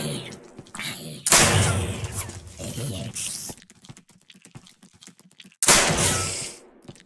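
Gunfire in the space game Create: Astral comes as loud, sharp bursts of shots with quiet stretches between them, alongside keyboard-like clicking and someone talking.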